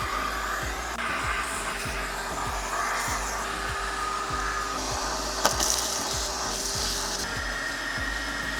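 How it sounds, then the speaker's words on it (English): A steady vacuum cleaner drone runs throughout while cleaning the engine bay of a 1969 Ford Mustang, with a faint rhythmic ticking underneath and a brief knock near the middle. "I'm just going to take a vacuum and clean up as much as I can."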